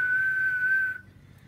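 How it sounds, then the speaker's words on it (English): A boat's MPI engine missing its IAC muffler foam gives off a steady, piercing whistle over a low engine rumble. The whistle holds for about a second, then cuts off, leaving the idle running. "when you hear that distinct whistling sound, you lost your IEC muffler"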